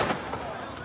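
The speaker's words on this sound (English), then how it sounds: "And gunshots." Gunshots in Lebanon sound as a rapid, noisy burst of sharp cracks heard in conflict footage, with voices talking over them.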